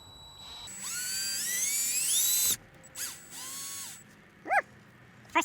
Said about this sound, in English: so I don't get the plastic or hit the plastic with this drill gun